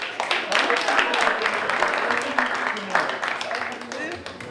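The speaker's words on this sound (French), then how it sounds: "On va demander de l'applaudir très fort pour ça." A press-conference audience applauds steadily, a dense, continuous patter of many hands at even loudness with voices mixed in.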